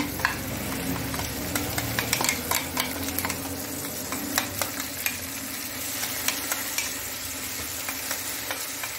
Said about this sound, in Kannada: ಈಗ ಈ ಹೊತ್ತಿನಲ್ಲಿ ನಾವು ಮಾಡಿದಂತಹ ಮಸಾಲೆಯನ್ನು ಇದರಲ್ಲಿ ಹಾಕೋಣ